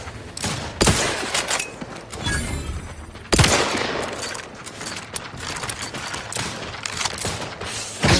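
Gunfire from the video game The Outer Worlds, loud bursts of shots with sharp reports and mechanical clatter in between, heavy blasts standing out near the start and midway.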